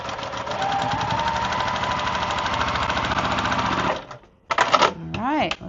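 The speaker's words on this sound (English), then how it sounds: "I'm going to sew right to the dot" A sewing machine stitches quilt fabric seams in a fast, steady mechanical whir, running continuously, then briefly stopping and restarting with short bursts near the end.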